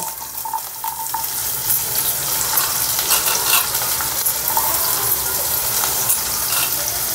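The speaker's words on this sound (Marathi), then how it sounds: "हे बघ, कांदे टाकून घ्यालो." Chopped onions frying in hot oil with mustard seeds and cumin in a pan for Maharashtrian pithla, a steady loud sizzle with occasional stirring scrapes and crackles.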